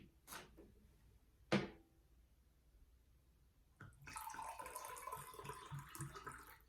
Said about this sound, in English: Pouring a glass of water.